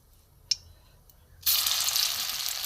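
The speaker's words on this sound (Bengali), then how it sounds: "এখানে আমার মিশ্রণগুলো আমি ছোট ছোট বলের মতো করে আমি ভেজে নেব।" Soybean mixture balls dropped into hot mustard oil in a kadai, where after a small clink a loud, bright sizzle bursts up and keeps hissing steadily, close and with no voices.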